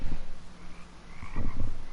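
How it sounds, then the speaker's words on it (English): Toads croak in the video game Rust, a few low throaty calls in short clusters near the start and again in a denser burst toward the end, set against a soft ambient background. "More toads."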